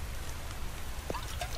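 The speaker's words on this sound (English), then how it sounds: "Raining again." Rain falling in The Infected video game, a soft continuous patter with a few sharper drop taps standing out, fairly quiet and without talk.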